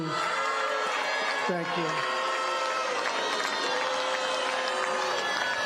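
Crowd at a South Carolina primary victory rally cheering and shouting continuously, loud and sustained beneath someone speaking into a microphone.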